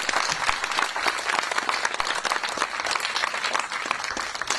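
Audience at a concert applauding steadily, a loud, dense and continuous clapping crowd that fills the whole stretch without pause.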